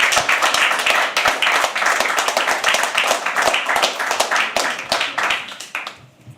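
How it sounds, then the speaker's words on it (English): Crowd at a live poetry open mic at The Habitat clapping continuously as a performer walks up from the back row, dense and loud, fading toward the end. "Keep clapping till he comes on stage."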